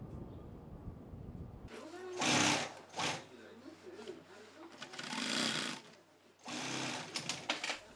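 An industrial sewing machine runs in a Tokyo bag-making workshop, sewing in several loud bursts separated by short pauses, with people talking faintly in the background.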